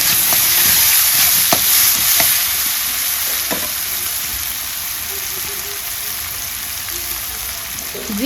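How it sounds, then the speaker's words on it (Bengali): Bay leaves and onion frying in a pan for a Bengali chicken curry, a loud continuous sizzle with scattered pops and stirring scrapes, close by and without talk. "সুন্দর ভাজা হয়েছে। তেজপাতা আর পেঁয়াজ।"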